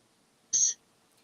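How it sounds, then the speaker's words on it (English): A single short throat clearing, a brief harsh burst that stands alone against near silence. "hang on a second, I just need to clear my throat"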